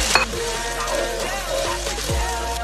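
Peeled, sliced tomatoes hit hot oil in a wok already fragrant with scallion, ginger and garlic, sizzling steadily and loudly up close while a spatula stirs and scrapes them around.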